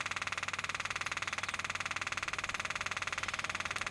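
A wrong-fuel separator machine that splits petrol from diesel at 40 litres per hour runs with a steady, fast-pulsing mechanical hum, faint and continuous throughout.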